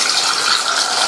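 Water gushes steadily into a pressure cooker holding 300 grams of washed baby potatoes. It makes a short, loud, continuous pouring rush with no talking.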